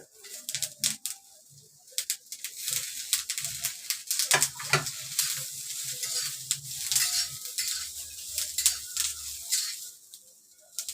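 Onion hits hot oil for an egg curry, setting off a dense, crackling sizzle full of rapid sharp pops and spatters that keeps going, loud and close, with a few utensil knocks and no talk.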